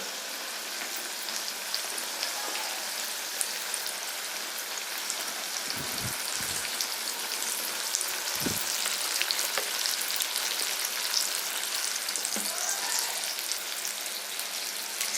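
Half-cooked lemons go into a hot, spiced Kerala lemon pickle mixture, and a soft, even sizzle with fine crackling and spatter runs unbroken for a long stretch, with no talking.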